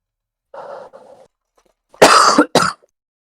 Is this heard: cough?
yes